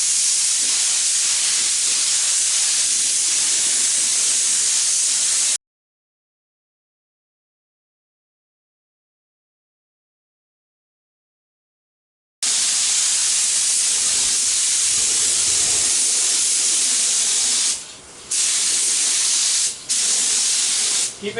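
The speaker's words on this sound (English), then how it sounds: "So let's go paint some rims." Steel rims off a John Deere tractor being spray painted on a hot day: a steady, loud aerosol hiss for several seconds, a silent break, then more continuous spraying with a few brief pauses near the end.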